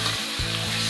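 Small pieces of chicken fry in a pan, giving off a loud, steady sizzle and spatter with some stirring thumps throughout the second.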